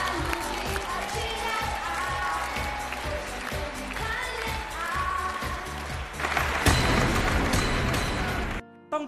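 Studio audience applause at a Chinese TV dating show as a contestant is called out, broad steady clapping with music underneath, swelling louder toward the end before cutting off.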